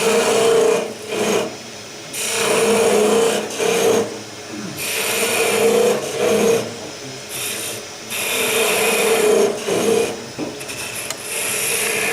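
The front face of a workpiece is cleaned off with a tool, giving loud rasping strokes in repeated bursts separated by short pauses.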